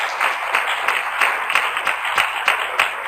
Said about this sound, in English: another round of applause to these women and to Anne.